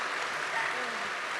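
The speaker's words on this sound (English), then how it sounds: "Please join me in giving up a big round of applause for your juniors, North American International Champion" An audience applauds the junior division champion at a Pokémon VGC international championship in North America, a steady spread of clapping heard from some distance that never swells or fades.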